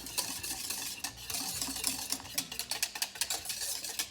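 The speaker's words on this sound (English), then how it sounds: "Whisk." A whisk scrapes and stirs steadily through a thick sauce in a pot for lasagna, producing a continuous rhythmic metallic swishing that is moderately loud and close with no talking.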